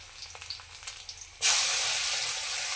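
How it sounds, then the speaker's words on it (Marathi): Chopped onion and cumin drop into hot oil, and after some faint clicks a sudden loud sizzle erupts and holds as a steady, bright frying hiss close at hand. "थोडंसं जिरं आणि आपण चॉपरमधून बारीक करून घेतलेला कांदा त्याच्यात टाकायचा."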